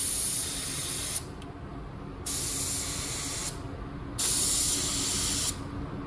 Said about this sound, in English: First things first, let's check out our spray pattern.